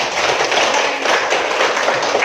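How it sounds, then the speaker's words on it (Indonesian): Classroom applause in an Indonesian-language lesson, a continuous loud wash of many hands clapping together, close and filling the whole short moment. "Tepuk tangan untuk semua."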